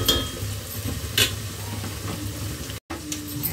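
Chicken and onions sizzle steadily in a pan, a close, continuous crackle broken by a few stirring scrapes and one brief cut near the end.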